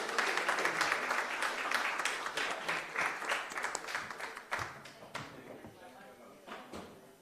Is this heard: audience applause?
yes